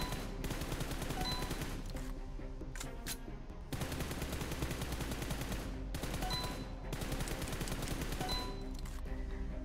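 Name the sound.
gunfire from automatic rifle in PUBG Mobile video game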